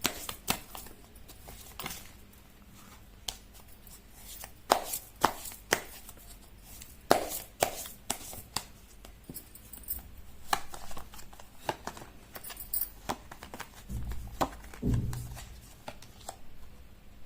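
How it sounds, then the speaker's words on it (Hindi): Tarot cards are shuffled in irregular bursts of crisp slaps and riffles, close and fairly faint, with gaps between them and a soft bump near the end. "कर लेती हूँ कार्ड की शफलिंग।"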